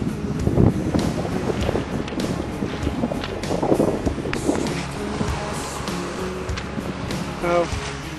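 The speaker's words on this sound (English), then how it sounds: "I am paddling into the wind and it's quite strong." Strong headwind buffets the microphone as a small boat is paddled across a calm sea, a steady broadband roar with gusty swells throughout and faint water movement beneath.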